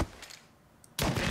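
Gunfire in the video game Mafia 3: a faint burst early on, a quiet lull, then a loud, dense blast of shots breaking in near the end, with no voices.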